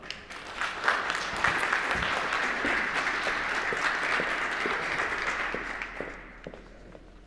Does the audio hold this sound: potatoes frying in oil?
no